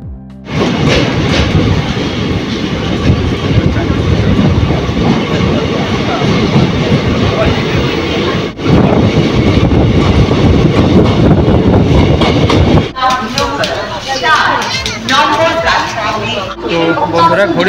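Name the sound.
Lalgola passenger special train running on the rails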